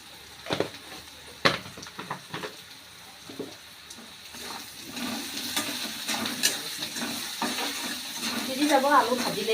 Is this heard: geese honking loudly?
no